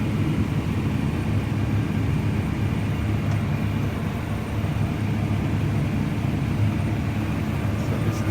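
A tractor drives close alongside a combine header while grain is unloaded on the move, giving a steady, loud low engine drone and mechanical rumble that runs unbroken throughout, with no talk.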